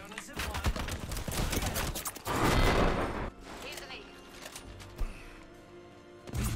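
Rapid video-game gunfire crackles in dense bursts with a louder sustained volley midway, mixed with speech and game sounds.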